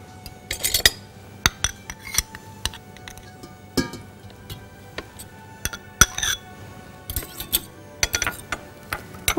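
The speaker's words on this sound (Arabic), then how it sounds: "وهحط معاها السكر وهضربهم مع بعض" Butter and sugar are being beaten together in a bowl by hand, with irregular clinks and taps of utensil against the bowl and soft scraping, close and fairly quiet.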